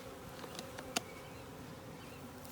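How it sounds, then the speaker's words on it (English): Faint, steady buzzing of many honeybees around a hive during a package bee installation, a continuous insect drone with a single sharp click partway through. "You can see the bees are trying to find their way in."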